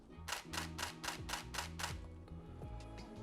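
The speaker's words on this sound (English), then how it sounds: "When you're under continuous low, it sounds like this" A Nikon D850 DSLR shutter fires in continuous low mode, a steady burst of about seven quick clicks, evenly spaced, close up with faint background hum.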